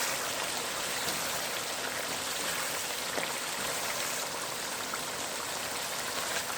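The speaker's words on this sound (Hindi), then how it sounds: "इसको अब और भूनेंगे।" Chicken karahi seasoned with ground black pepper frying in a pan, giving a steady, even sizzling hiss that runs unbroken throughout with no talking.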